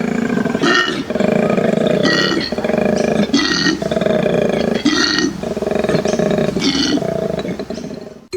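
A koala bellows in a series of deep, rasping, snoring-like roars with throaty grunting pulses, loud and close, repeating steadily for several seconds with no talk.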